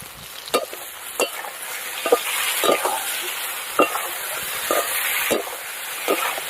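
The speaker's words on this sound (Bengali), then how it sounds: "ভালো করে পেঁয়াজের সাথে আদা রসুন টমেটো সব একদম ভেজে নেবো" Onion, ginger, garlic paste and chopped tomato fry together in a pan, a soft sizzle punctuated by regular scraping strokes of a spatula roughly every half second to second, close and clear, with no talking.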